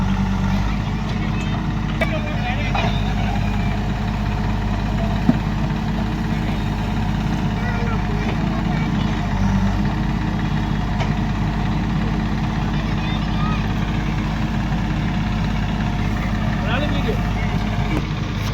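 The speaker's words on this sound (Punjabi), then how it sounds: "ਟਰੈਕਟਰ ਦਾ ਪੁਣ ਦੇਖਦੇ ਆ ਕਿੰਨਾ ਕੁ ਜ਼ੋਰ ਲੈਂਦਾ" A tractor's diesel engine idles steadily with a low, constant rumble throughout, close by, with no talk over it.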